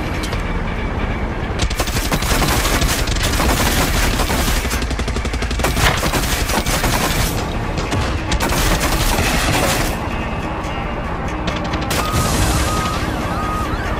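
Gunfire fills a Far Cry 6 video game scene while an aircraft is shot down, a loud, sustained hail of rapid automatic shots with heavy booms, running almost without a break throughout.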